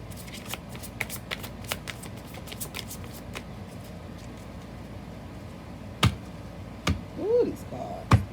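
Tarot cards being shuffled at a steady pace, with soft riffling under faint background noise and a few sharper snaps and slaps near the end.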